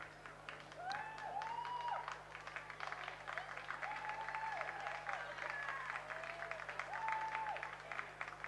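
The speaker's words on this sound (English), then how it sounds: "And a nice round of applause and a cheer for St. Ignatius." Crowd applause and cheering ring out at a rowing regatta, a steady wash of clapping that runs loud throughout, with an announcer's voice and drawn-out tonal calls layered over it.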